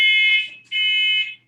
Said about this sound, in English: our fire alarm is going off and we don't know why